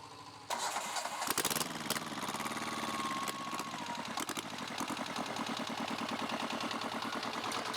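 A Bolat FM 25 motorcycle engine cranks and catches, then settles into a steady close, rapid-firing idle that runs on without pause.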